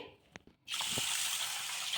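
A few faint clicks, then water pours over rice in a steady, close rush that continues to the end.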